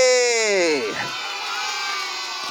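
Children in a puppet show audience cheer together in a loud, bright burst of young voices that tails off after a second into a softer crowd murmur.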